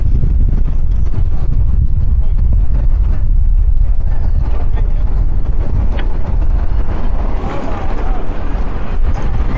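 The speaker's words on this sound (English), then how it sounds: "As I said, very, very windy." Strong wind buffets the microphone outdoors under dark clouds, a loud, constant low roar with gusty swells, especially near the end.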